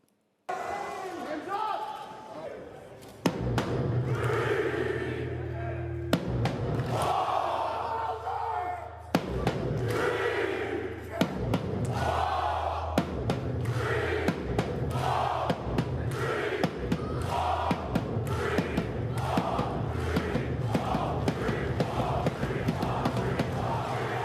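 A home crowd at an esports event in Texas roars and cheers throughout, loud dense crowd noise with repeated surging shouts and sharp bursts, mixed with energetic voices.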